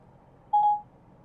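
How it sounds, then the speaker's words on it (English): A Ford Sync 3 in-car system sounds a single short dialing tone, one clean electronic beep about a quarter second long in an otherwise quiet cabin. "If you want to make a phone call, call Barry."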